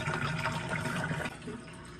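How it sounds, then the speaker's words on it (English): Water poured out of a hydration bladder reservoir, a continuous close gurgling splash that runs steadily and eases slightly near the end. "Just empty the water first."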